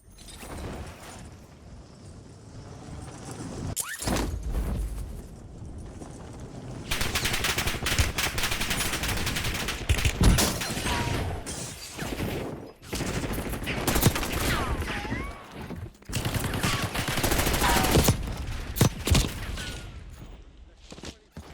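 Enemy gunfire in Call of Duty: Warzone crackles through a dense, loud stretch of automatic bursts and single shots. Pauses break it up, sharp cracks stand up close, and some game ambience runs underneath.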